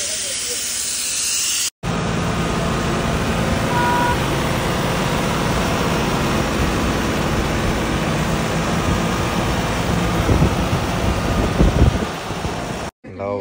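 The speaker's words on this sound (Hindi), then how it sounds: "पहुंच गया घर पर ट्रैक्टर" A New Holland tractor arriving at a home, heard as a loud, steady engine drone with hissing noise that holds for most of the stretch, with short cuts near the start and end and people talking faintly underneath.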